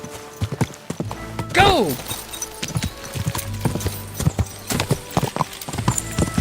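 Horse hooves clip-clopping in the Kingdom Come Deliverance 2 video game, a steady galloping rhythm with a brief whinny early on, under intermittent talk from a player.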